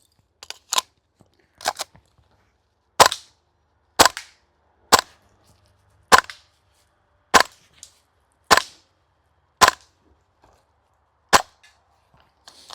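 A Double Eagle DWS Lupus airsoft gun firing about ten sharp, dry snapping shots in quick succession at targets, evenly spaced roughly a second apart, close and crisp against near silence.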